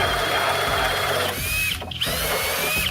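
A Flex power drill in turbo mode on speed 2, with an all-metal Jacob's chuck and carbide jaws, boring a large 2 9/16 inch hole, a loud, close, steady motor whine and grinding that briefly dips mid-cut.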